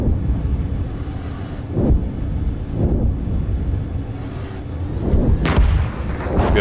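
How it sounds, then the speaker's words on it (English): Artillery fire in the tank game Gunner Heat on PC, with several heavy booms and rumbling impacts spaced a second or two apart over a continuous low background roar. "we now have a lot of artillery dropping"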